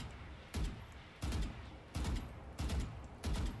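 Valorant gunfire in pairs of quick two-tap shots at a target, five evenly spaced bursts about a second apart, crisp and close with no voices.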